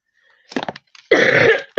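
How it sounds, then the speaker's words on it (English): A person coughs, first in a few short, soft bursts, then in one harsher, louder cough, close up with no talk. "I wish I could get rid of this cough"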